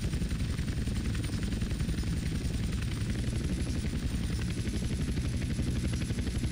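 A helicopter in GTA San Andreas thrums with a continuous rapid rotor chop and steady engine roar, loud and close throughout, with no voices.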